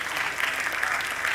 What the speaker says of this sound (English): Can we please clap for him?